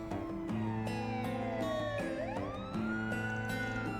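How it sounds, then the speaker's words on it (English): A police siren in the video game Trails Through Daybreak II wails, rising and falling steadily over a layered electronic background, loud and continuous with no voices. "A police siren?"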